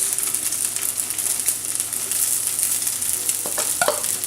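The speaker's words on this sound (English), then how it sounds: "Go ahead and add your steak strips along with the onion" Steak strips and sliced onion sizzle steadily in a hot pan for Puerto Rican jibaritos, a loud, dense frying hiss with a few scraping stirs near the end and no talk.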